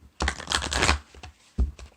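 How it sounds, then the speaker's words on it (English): A deck of oracle cards gets a couple of quick shuffles, a close, loud riffling burst of papery flutter and then a short second slap of cards, heard alone without speech. "I'm going to give it a couple shuffles"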